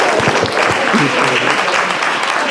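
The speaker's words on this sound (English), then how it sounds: "Let's give a nice round of applause." Wedding guests applaud steadily after the speeches, a dense wash of clapping throughout, close and fairly loud.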